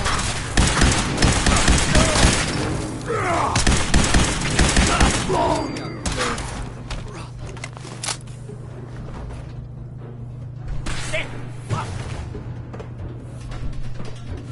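Gunfire in the video game Fallout 4, a dense, loud volley of shots and thuds for several seconds that thins into sparser bursts over a steady low hum.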